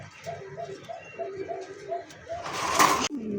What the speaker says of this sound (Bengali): খুব সুন্দর একজোড়া মন্ডিয়ান কবুতর, ব্ল্যাক চেক মাক্সি কালার মধ্যে